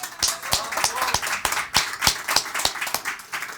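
A church congregation claps in a rough, rhythmic beat during a worship service, sharp individual claps rising above a lighter patter of hands, fairly close and lively.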